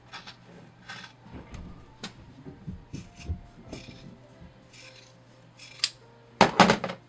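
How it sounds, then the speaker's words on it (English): Scissors trim excess fabric from an in-the-hoop 18-inch doll head, giving soft scattered snips and rubbing handling noises, then a sharper cluster of close cuts near the end. "So let me just cut this excess here."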